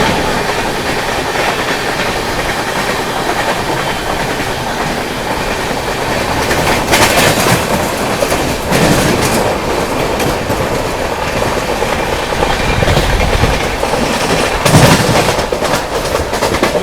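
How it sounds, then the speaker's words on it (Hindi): The UP Sampark Kranti Express rolls slowly past near Gwalior Junction, a loud, close, sustained rumble with steady clickety-clack of wheels over rail joints and occasional brighter squeals and clanks. "सामने से आती हुई यूपी संपर्क क्रांति धीमी रफ्तार में है दोस्तों"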